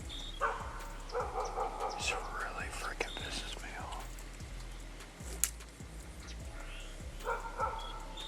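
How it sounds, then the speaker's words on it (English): A dog barks faintly about 200 yards away, a few scattered yips under a man's low, muttered speech outdoors. "he's standing over here probably 200 yards away barking his head off"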